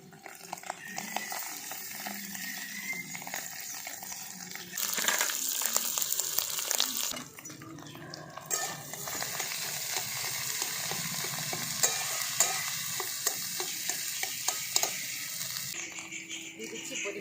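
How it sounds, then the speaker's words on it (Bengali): Whole cumin seeds and mashed boiled potato frying in hot oil, a continuous close crackling sizzle with stirring and a brief burst of running tap water partway through, no voice over it. "তেলটা গরম হয়ে গেছে, এরপর দিয়ে দিচ্ছি গোটা জিরে।"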